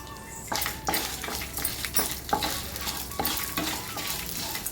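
Fenugreek and dal dry-roast in a pan, loud rhythmic scraping and rattling as a spatula stirs them again and again over a soft frying hiss.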